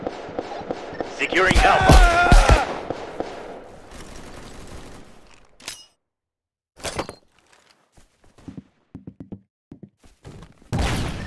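Gunfire from the tactical shooter Unit: Classified: a dense burst of rapid shots and breaking impacts at the start, then scattered single loud reports separated by silences, with a player shouting between them.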